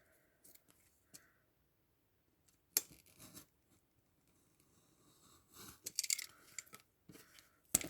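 Scissors snipping fabric over a thin cardboard base, several short crisp cuts in quick bursts, close and quiet with pauses between.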